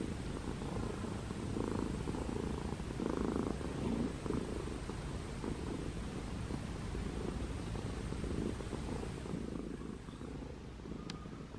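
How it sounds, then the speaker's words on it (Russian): A cat purrs close up in a steady, low rumbling rhythm that continues throughout, with faint quiet handling sounds and no speech. "Где ты урчишь? Ой, какой котик. Ой, как урчит."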